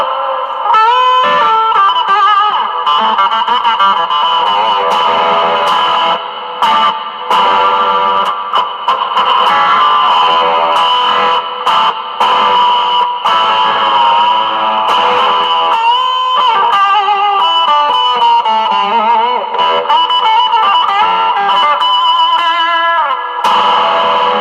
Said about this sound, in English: So this is the boost and the distortion. You kind of get a super distortion with those two.